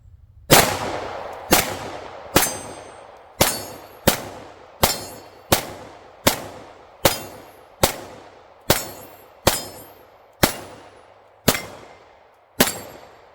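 Magtech steel case 9mm rounds fired from a Glock 19 clone at steel targets outdoors, thirteen sharp, loud shots at a steady pace of roughly one per second, each with a quick ringing decay.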